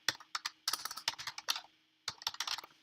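Close, crisp clicking of computer keyboard keys as an email address is entered, in two rapid bursts separated by a short pause.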